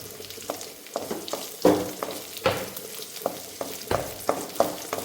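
Green chilies are tossed into hot oil in an uruli, a traditional Kerala cooking vessel, giving a close sizzle punctuated by repeated sharp crackling pops and stirring clinks.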